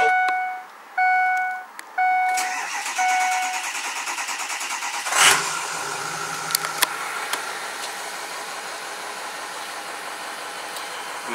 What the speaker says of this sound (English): I'm going to go ahead and do a cold start on this truck.